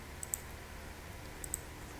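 A few light keyboard clicks come in two small bursts of quick keystrokes, close and faint, with no talking while someone types characters into HTML code.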